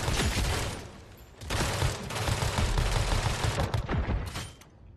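Gunfire from a weapon in the shooter game Modern Strike rattles in dense, sustained bursts, loud and continuous with a brief dip before resuming.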